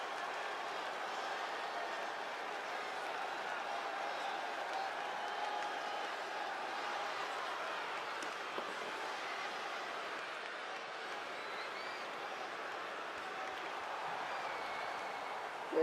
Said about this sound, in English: I hear a mixture of cheers and boos from the crowd.